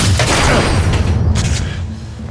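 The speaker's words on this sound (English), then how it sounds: "The first bullet hits me in the chest," Heavy gunfire strikes in a dramatized action scene, a dense roaring burst of booming impacts that starts loud and fades slightly, with no speech over it.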